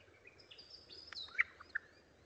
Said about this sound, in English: these are birds occurring in the Blue Mountains that have lost a component of their song